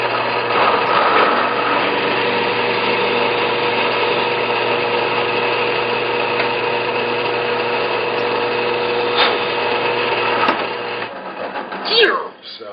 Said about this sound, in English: So basically, that gets clamped in there and brought over to the drill press.